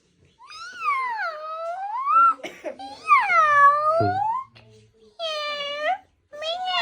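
Person imitating a cat with several drawn-out, rising and falling meows in quick succession, loud and close, with brief coughing or laughing between them.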